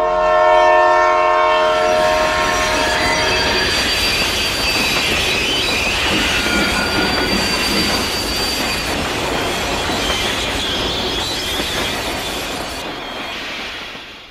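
A train nearing a road level crossing in Serbia sounds a long loud horn blast, then rushes past with heavy roaring rumble, wheel squeal and rail noise that slowly fades.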